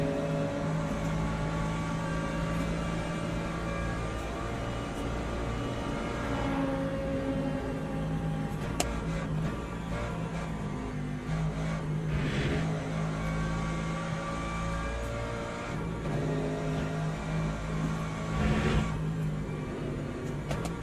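LMP2 prototype race cars in Le Mans Ultimate produce a continuous whining engine drone, with a couple of brief swells as cars close in and pass alongside.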